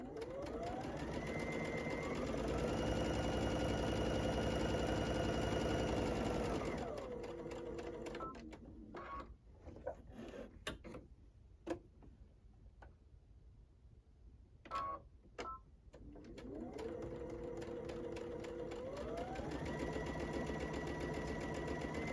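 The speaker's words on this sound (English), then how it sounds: "take it to the machine and stitch 1/4 inch on either side of that line" A sewing machine stitches quilting fabric in two long steady runs with a loud, even motor whir, broken midway by quieter clicks and handling sounds as the fabric is adjusted.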